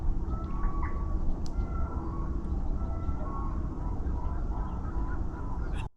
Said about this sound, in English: there are a few birds calling